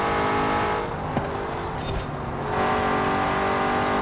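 McLaren F1 from 1990 in Forza Horizon 4, its engine droning steadily and fairly loud throughout, dipping briefly in the middle before swelling again.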